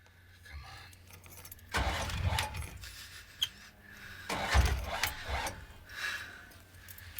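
A car engine cranks and catches amid key jangles and rustling, then a second burst of engine noise rises and settles into a low idle, fairly close and moderate in a quiet scene.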